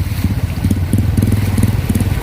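A small single-cylinder walking tractor engine chugs in a steady, rapid low thump, running nearby without any voices.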